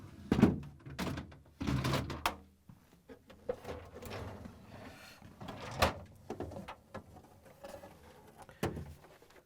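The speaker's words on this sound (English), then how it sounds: "we're going to pull out all three drawers" Samsung refrigerator drawers being pulled out and lifted free, giving several separate thunks and sliding clunks spread across the span, close and fairly loud, with no talk.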